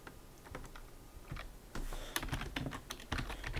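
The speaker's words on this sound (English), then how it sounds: "I'll type that in myself" Steady, quick clatter of keys on a computer keyboard, close and fairly quiet, with irregular bursts of keystrokes and a few heavier taps, no voices.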